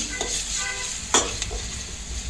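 Ginger, chilli and garlic paste being stirred in a hot pan for a vegetable sandwich filling, giving a steady close sizzle with a few soft scraping strokes, no voices.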